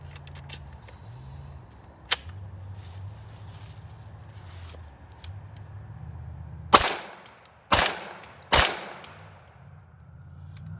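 A loaded gun is fired three times in quick succession, each shot loud and sharp, after a quieter handling click and a low background hum.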